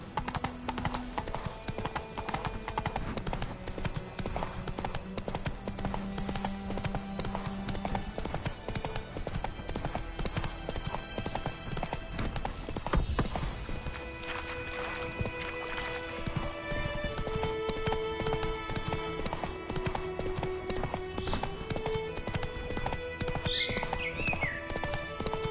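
A horse gallops in The Witcher 3, with fast rhythmic hoofbeats pounding without pause close by, layered over game music, and a brief whinny near the end.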